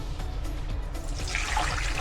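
Water poured into a bowl for Ilocos empanada dough, a short splashing trickle that swells toward the end over a low background rumble.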